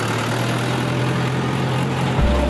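A tractor engine runs steadily beside a paddy field with a low, even drone, then the tone drops abruptly near the end as the machine pulls away.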